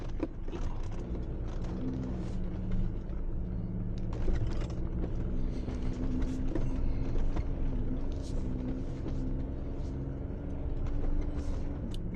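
A 4WD off-road vehicle with a winch creeps downhill through snow on off-camber ground, its engine a steady low rumble throughout, with light crunching and creaks on top and no talk.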